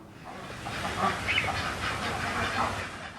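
Pekin ducks quack repeatedly in a steady, fairly loud chorus at a farm in Kaliganj, Satkhira, with a constant hissing background noise underneath.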